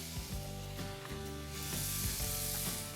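Chopped onion and garlic hit a hot skillet as the base for a lemon basil shrimp risotto, giving a steady, close sizzle with low background hum that brightens and thickens partway through.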